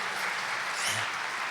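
An audience at a spiritual talk claps together in a dense, continuous round of applause, short and steady throughout with no pauses.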